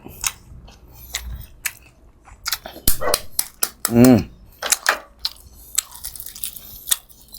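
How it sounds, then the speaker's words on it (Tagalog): A dog barks a few times in short bursts somewhere nearby during an outdoor balut and Red Bull eating session, mixed with chewing, crunching and people talking. "Pagpasensyahan nyo na yung asong natahol."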